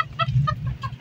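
Japanese bantam black tail chicken giving a few short, nasal clucks in quick succession, close by over low background rumble, with no talking.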